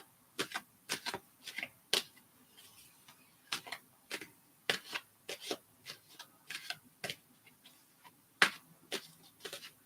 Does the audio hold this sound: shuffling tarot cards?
yes